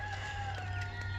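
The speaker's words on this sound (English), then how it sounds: "You've probably maybe have heard the roosters in the background." Roosters crow in the background over a steady low hum, their calls faint and drawn out, with no voices present.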